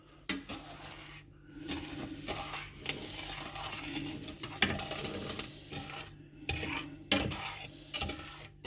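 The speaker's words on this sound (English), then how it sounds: "Let's give it a stir." A spoon stirs prickly pear jam with sugar in a pot on the hob, scraping and knocking against the metal in irregular strokes with sharp clinks, close and fairly quiet with no talking.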